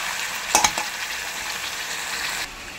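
Meat sautéing (kosha) in a pan, a steady close frying sizzle with a couple of sharp stirring scrapes near the start, then a continuous hiss until it drops off at the end.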